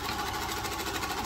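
Sewing machine stitching a bedspread, a fast continuous mechanical whir with a steady rapid clatter, close and running alone for the whole stretch.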